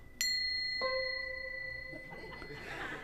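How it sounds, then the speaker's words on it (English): A chime rings twice in quick succession, each clear metallic tone sustaining and slowly decaying with a lingering echo-like tail, fairly near and alone in a quiet room. "This is the most amazing chime. Check this out. It has like an echo."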